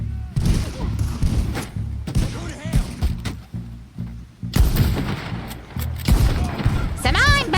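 A big gun in a shooting video game fires repeated heavy booming shots in irregular bursts, loud and punchy, mixed with a voice talking between the blasts.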